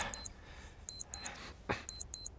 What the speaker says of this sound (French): Il y avait une alarme dans le sac